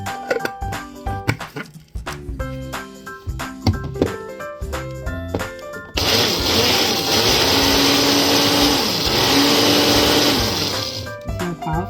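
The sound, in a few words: electric chopper finely dicing seasoning ingredients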